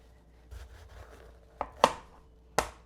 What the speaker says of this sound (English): So I peeled the squash. I'm going to cut it now.